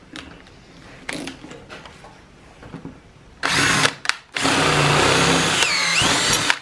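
Power drill boring through a plastic panel while building a homemade cook table in a 6x10 cargo trailer, a few quiet taps first, then two loud sustained grinding bursts, close by, with no talk.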